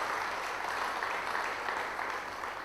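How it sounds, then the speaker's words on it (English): Applause from a crowd at a neighbouring table during a professional billiard tournament, a steady patter of clapping held at moderate distance throughout, with no voices over it. "I think we know what those claps mean"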